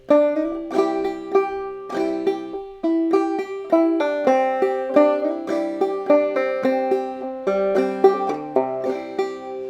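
A clawhammer banjo plays the fiddle tune "Billy in the Lowground" with bright plucked notes and brushed strums. The rhythm is steady and driving, close and clear, with no voices.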